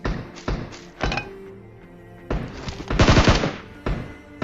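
Gunfire in a shooting video game: a few sharp single shots, a pause, then a dense rapid burst and one more shot, loud and close.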